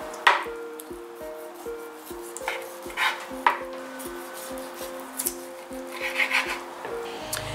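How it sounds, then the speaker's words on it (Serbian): A knife chops and scrapes through pork ribs and bone on a board, with repeated dull cuts and rubbing strokes under a steady background tune. "kilogram svinjskih rebara i iseći ću na nekoliko delova"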